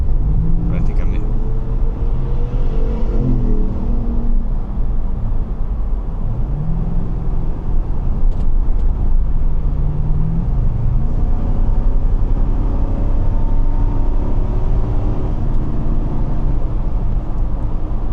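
A 2023 Lexus GX460 off-road build drives through city streets, its engine and road noise a steady low rumble with shifting tones throughout, heard from inside the cabin.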